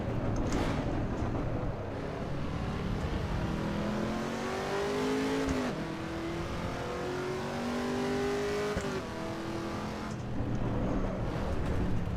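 Race car engine in Assetto Corsa EVO, running loud and continuous with rising and falling revs through gear changes across the whole stretch.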